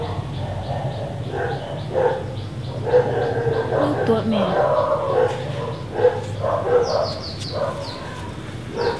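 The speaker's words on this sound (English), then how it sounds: "I hear the dog." On a film set a dog barks and yips repeatedly in the background, mixed with whimpers and bird chirps, while people talk over it throughout.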